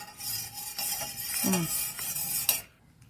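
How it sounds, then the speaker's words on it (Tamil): A spoon stirs jelly mixture with sugar in a bowl until it dissolves, producing soft scraping swirls and light clinks for about two and a half seconds before stopping abruptly. "இதை கரையிற வரைக்கும் நல்லா மிக்ஸ் பண்ணிக்கோங்க."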